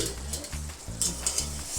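Chicken curry sizzles in a pan while being stirred, rhythmic scraping strokes over a constant close frying hiss.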